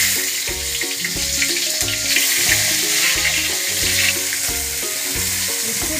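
Onion and tomato frying in hot oil for a Rayalaseema-style uggani, a steady dense sizzle running throughout with a faint repeating low background pattern, close and fairly loud, no talk.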